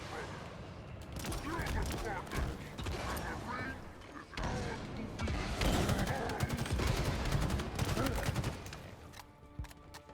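Gunfire and explosions in Halo Infinite, a dense run of rapid shots and bursts that fills the scene with dips in between, and talk carrying over the top.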